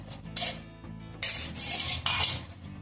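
Grated fresh coconut stirred in two spoons of ghee in a pan: a few loud, rough scraping strokes of a utensil against the metal pan in bursts, close up, with no voices.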